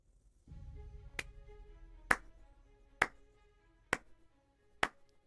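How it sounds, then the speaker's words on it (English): Five sharp, isolated claps ring out alone at roughly one-second intervals, crisp and fairly close, over a faint sustained musical tone. "Oh, clapping."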